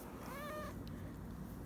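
A small kitty gives a single clear meow early on, rising and falling, close and fairly faint, followed by quiet room noise.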